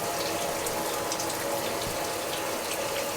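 Tap water runs steadily into a sink during rinsing at home, a continuous close splashing stream that stays even throughout with no talking.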